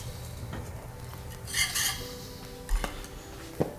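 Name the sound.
enchilada sauce transferred from pot into bowl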